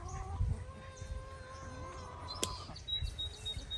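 Backyard chickens cluck and call softly in a brief, uneven run of calls over low outdoor rumble, with a sharp chirp near the middle and a thin high tone later.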